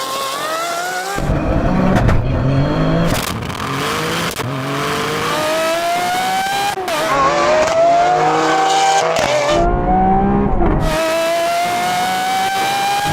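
A GR Yaris and a Lamborghini Aventador SV launch side by side in a drag race, loud engines rising in pitch through gear changes with brief drops between shifts, tire noise and wind roaring up close.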